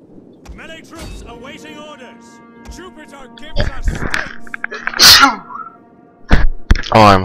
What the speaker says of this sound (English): I'm sorry for sneezing.